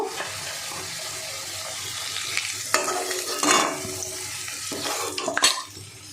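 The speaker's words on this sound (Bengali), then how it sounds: "আলুটা একটু লাল লাল করে ভাজবো।" Potato pieces frying in oil with salt in a pan, a steady close sizzle with occasional scraping stirs and clinks throughout, no talking.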